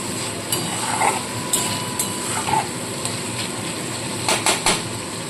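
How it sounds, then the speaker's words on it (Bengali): A spice paste for lote fish curry is stir-fried in a pan, a steady sizzle under intermittent metallic scrapes and taps of a spatula against the vessel. "ভালো মতো কষিয়ে নেবো আগে মশলাটাকে"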